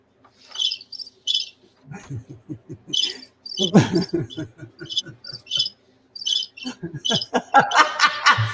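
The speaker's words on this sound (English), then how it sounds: "Play the crickets. I hear crickets." A cricket chirping sound effect plays in short repeated bursts while people laugh and chuckle nearby, the laughter growing louder toward the end.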